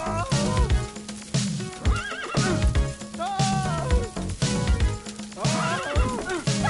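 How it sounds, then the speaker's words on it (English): A horse in the video game Party Hard neighs and whinnies repeatedly amid clip-clopping hooves, loud and close in a steady, busy rhythm, layered over the game's continuous background sound. "That's why you don't keep a wild horse in your house."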